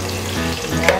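Onion and garlic sautéing in a pan for chicken tinola, a loud, close, continuous frying sizzle with a faint clink near the end of the brief moment.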